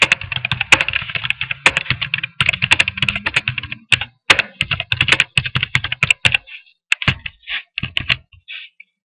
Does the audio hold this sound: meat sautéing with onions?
no